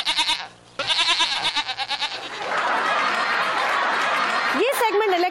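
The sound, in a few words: goat bleating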